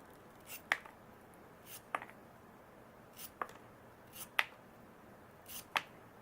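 A straight razor push cutting leather, five sharp, quiet snicks spaced about a second apart, each a brief crisp click against a faint background hiss.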